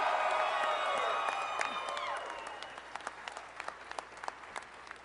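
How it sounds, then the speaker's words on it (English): A crowd at a political victory night applauds and cheers for First Lady Marty Kemp, loud clapping with whoops that fades after two seconds into scattered claps. "I think we need to start tonight by giving a big round of applause to the best First Lady in the country"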